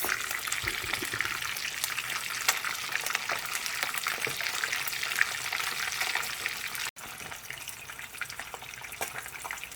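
Red snapper frying in very hot oil, a dense continuous crackle and sizzle that stays loud and steady throughout, briefly cutting out for an instant near the end.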